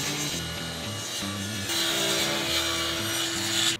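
A saw rips Padauk lumber pieces to rough width, a close, loud, rhythmic cutting rasp of several strokes that turns into a steadier, higher whine near the end.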